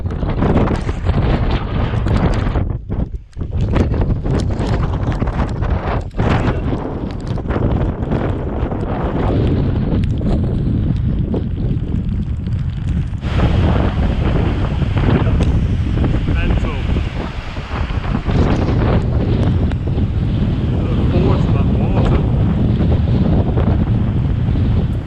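Strong gusts buffet the microphone on a wet, windy hilltop along the West Highland Way in March, a loud, continuous roar with brief dips where the wind eases before surging again.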